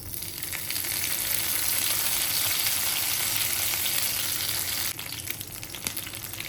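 Curry leaves sizzle and crackle in hot coconut oil in a pan, a loud, continuous frying hiss that eases briefly near the end and is then joined by stirring clatter.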